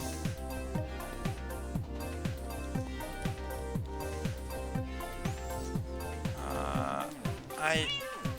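A cat in the Minecraft video game meows a few times, the calls rising near the end over loud, steady, rhythmic background music.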